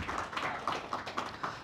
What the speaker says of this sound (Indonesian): tepuk tangan untuk FPI ya